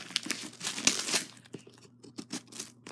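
A birthday present package is unwrapped up close with loud crinkling and rustling of wrapping, then quieter scattered crackles and tearing sounds.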